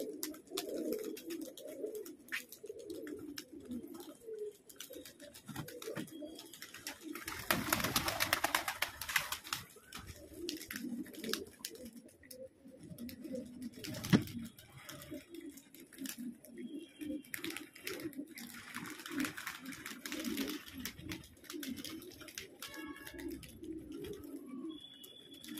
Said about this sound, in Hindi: ये देखिए अब नहाने लगे कबूतर